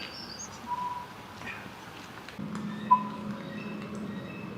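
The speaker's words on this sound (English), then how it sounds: "Okay, I hear distant birds." Faint, distant bird chirps scattered across a quiet outdoor background in Sitka, Alaska, with a soft steady hum underneath and one brief sharper chirp.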